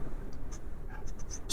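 Chalk or marker strokes on a board during a math lesson, a few short scratchy marks in quick succession, close and fairly quiet over a faint room hum.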